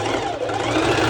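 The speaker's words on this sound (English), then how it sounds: "I'm going to turn it on the other side to make sure that all the 4 layers" Close and loud, a sewing machine hums steadily as it stitches along the second side of layered swimsuit fabric, running without pause.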